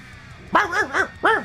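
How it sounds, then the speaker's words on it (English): A small dog, a young little one, gives a few high, sharp yips in quick succession, close and clear over a quiet background. "Okay, baby dog."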